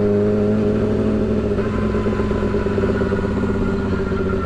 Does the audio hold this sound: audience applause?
no